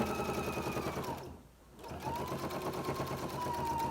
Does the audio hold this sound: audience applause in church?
no